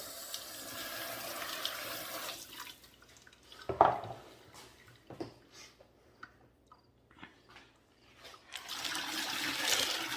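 Running water rinses slurry off tumbled rocks from a 12 lb Lortone tumbler, a soft hiss with clinks and splashes midway and a louder gush toward the end, heard close and without talk.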